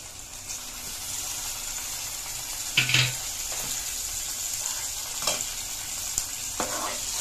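Mutton pieces sizzle in hot oil with turmeric, a steady close hiss and crackle broken by a few louder stirring scrapes and clinks, with no talk.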